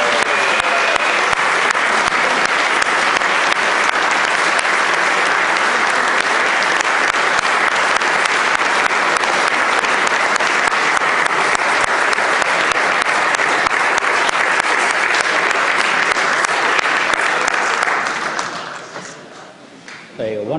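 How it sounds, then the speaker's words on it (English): A warm, sustained round of applause fills the House of Delegates chamber as a tribute to the gentleman from Poquoson, dense clapping holding steady for about eighteen seconds before tapering off near the end. "giving the gentleman from Poquoson a warm round of applause for his great service to our nation"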